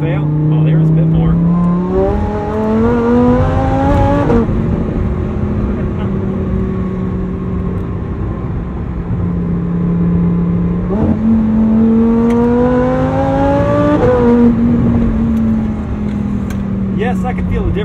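Supercharged 840-hp Lamborghini Huracan STO accelerating through its gears, engine note climbing in repeated rising sweeps with a supercharger whine over it, loud and close, shifts dropping the pitch between pulls, with someone talking over it.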